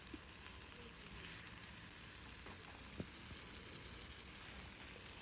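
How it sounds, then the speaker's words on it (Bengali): Fish rubbed with salt and turmeric fries in a pan with a steady, soft sizzle and crackle that continues evenly throughout, with no talking. "এবার একদম শেষে মাছ ভাজাটা হবে"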